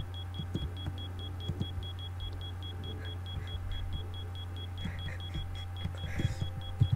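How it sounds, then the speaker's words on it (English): A faint, regular electronic beep repeats at a steady quick pace over a low vehicle hum, with occasional soft knocks. "Can you hear the annoying beeping?"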